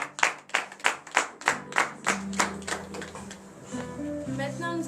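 A congregation at a Friday morning prayer in Benin claps in a steady, rhythmic beat, roughly two claps a second, loud and near at first, then fades under raised voices acclaiming and a sustained tone.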